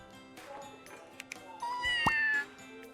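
A sick kitten in the Scribblenauts video game gives a single thin, rising meow over soft background game music and chimes.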